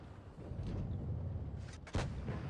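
A single heavy tank cannon blast in World of Tanks Blitz, a sharp boom near the end over a low rumbling engine and battle background, fairly faint overall.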